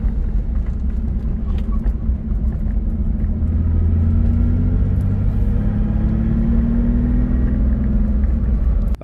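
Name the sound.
1977 Porsche 911 Targa engine running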